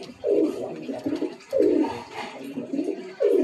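Pigeons of a Kolkata blood line coo in a loft, three deep, rolling calls repeating at roughly even intervals close by, with no talk over them.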